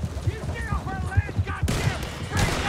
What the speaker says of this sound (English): Hey, gunshots.